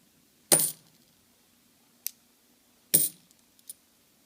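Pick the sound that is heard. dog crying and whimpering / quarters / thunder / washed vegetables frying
quarters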